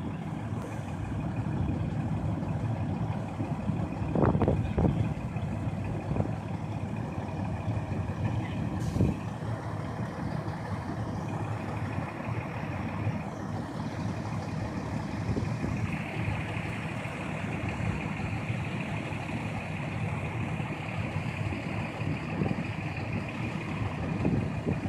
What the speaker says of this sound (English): Whenever I don't bring the GoPro, the fire trucks are always out.